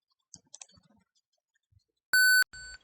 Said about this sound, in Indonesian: dan buzzer akan berbunyi beep yang menandakan bahwa status tersebut atau sensor gerak memvalidasi adanya gerakan